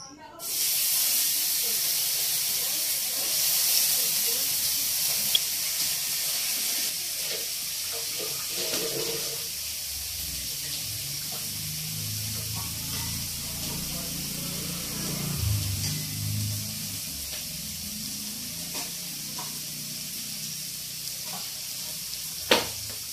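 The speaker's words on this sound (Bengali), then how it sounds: "প্রথমে সবজিগুলো একটু ভেজে নেবো।" Vegetables frying in a pan at home, a steady hiss running throughout, with water and sink sounds and faint talk mixed in the background.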